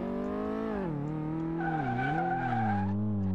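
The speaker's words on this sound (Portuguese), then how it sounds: "Faz um drift já, ó." Car drifting sideways in Car Mechanic Simulator 2018, a steady engine drone with gliding pitch and a sustained tire squeal joining in partway, close and loud throughout with no talking.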